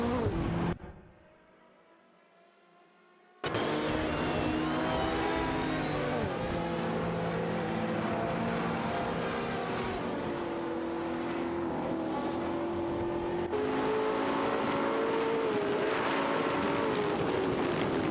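Race car engines in an AI-driven racing video game whine and rev continuously, with shifting pitch as cars accelerate and pass, after a brief near-silent gap at the start.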